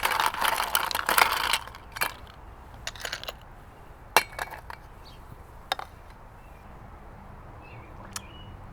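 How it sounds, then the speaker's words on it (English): Ice cubes clatter into a glass for a Pimm's cup, a burst of bright clinks and rattles up close, then a few sparse settling clinks in a quiet kitchen. "Add some ice."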